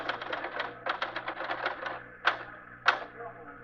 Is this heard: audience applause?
no